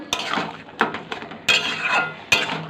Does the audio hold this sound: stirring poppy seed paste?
yes